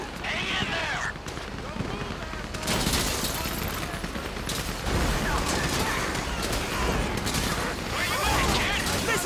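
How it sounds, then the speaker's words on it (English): Bursts of automatic gunfire and rapid shots from a shootout in the video game GTA V on PC, loud and continuous, with voices talking over the firing. "You hear that gunfire?"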